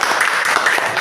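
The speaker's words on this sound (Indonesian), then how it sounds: "Oke, beri tepuk tangan pada." Classroom applause from a group of students, a steady dense patter of many hands clapping close by, continuing evenly for about a second.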